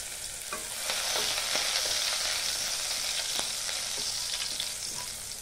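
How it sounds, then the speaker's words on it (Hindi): Ginger, garlic and a green chili sizzle in hot oil in a pan for restaurant-style chili paneer, a steady close crackle with occasional stirring clicks and no voices. "अब हम इसमें डाल देंगे अदरक, लहसुन और एक हरी मिर्च।"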